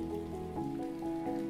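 A brief stretch of rain falling on vegetation outdoors, an unbroken gentle patter under mellow held musical notes, with no talking.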